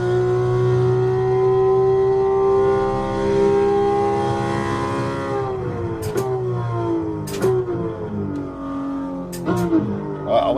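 A race car in a racing sim game holds a high, steady engine whine that sags in pitch, then rapid gear-shift blips and revs follow as it accelerates, loud and close.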